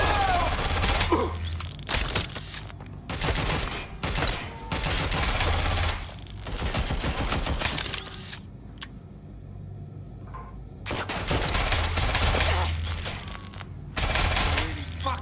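Bursts of gunfire in a Watch Dogs: Legion firefight, dense volleys broken by short pauses, loud and close, with a vehicle and breaking glass mixed in.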